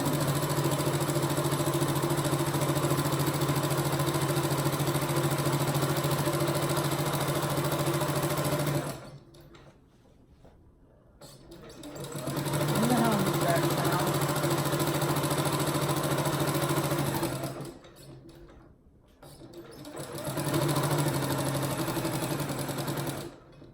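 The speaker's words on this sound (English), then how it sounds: "Lift up my needle and keep on sewing" A sewing machine stitches a pillowcase in two long steady runs and a shorter third, loud and close, with brief quiet pauses between as the needle is lifted and the fabric turned.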